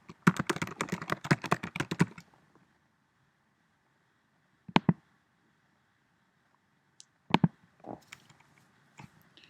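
A rapid burst of computer keyboard typing, dense and close, runs for about two seconds and then stops, followed by a few isolated clicks separated by long quiet gaps, with no talking.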